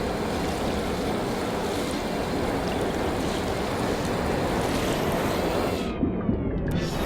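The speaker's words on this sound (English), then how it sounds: "So it's a significant little rainstorm" Steady heavy rainfall in the No Man's Sky video game, a hot night-time rainstorm on grassy amber plains, a dense, continuous wash of noise that hisses evenly throughout, cutting out briefly near the end.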